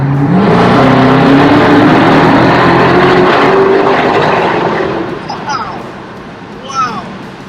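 A Dodge Charger Hellcat Redeye's supercharged engine revving hard inside a tunnel, a loud rising roar that echoes off the walls, then eases off and fades, with a brief rev near the end.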